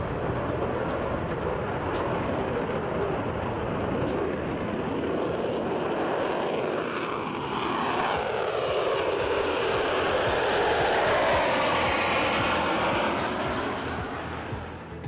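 A Concorde jet airliner's engines roar steadily during its takeoff run from New York, heard as a loud, broad rumble from inside the cabin that swells and shifts in pitch as it climbs, with no one talking.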